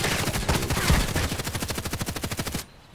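Automatic gunfire in the Contract Wars video game, a rapid, steady burst of close, loud shots that runs for about two and a half seconds, then cuts off abruptly.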